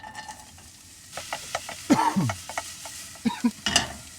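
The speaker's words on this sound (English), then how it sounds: "Hear that sizzle." Soft sizzling of onions in a pan under spoon scrapes and taps, a few clattering stirs close by, no talking.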